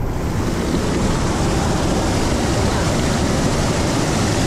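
River water swollen by the first monsoon rain rushes past in a loud, constant roar with wind buffeting the microphone, heard close while crossing the river.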